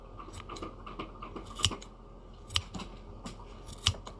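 Scissors trim a yarn pom-pom up close, snipping quietly and irregularly with a few sharper, louder cuts spaced about a second apart, with no talking.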